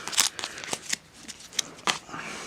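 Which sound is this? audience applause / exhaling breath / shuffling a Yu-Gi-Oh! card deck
shuffling a Yu-Gi-Oh! card deck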